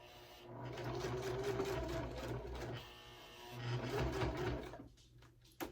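A sewing machine works steadily over a hump in a Harlequin wristlet bag, its fast, even stitching hum running close and continuous with slight surges, then easing off near the end.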